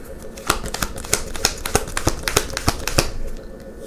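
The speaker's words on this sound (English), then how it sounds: "as I was shuffling, cards were coming out, so I kept them." Tarot cards shuffled by hand in a quick run of about a dozen crisp riffling flicks over roughly three seconds, close and fairly loud, with no talking.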